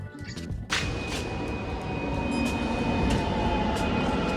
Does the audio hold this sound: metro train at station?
yes